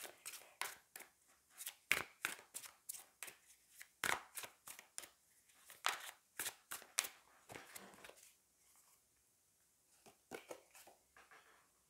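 Tarot cards are shuffled in quick, crisp riffling bursts, close and fairly quiet, with a steady rhythm of slaps and flutters that thin out toward the end.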